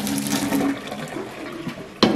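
Water poured into a pot while cooking pasta, a steady running, splashing stream filling the pan for about two seconds, then a brief louder gush at the end.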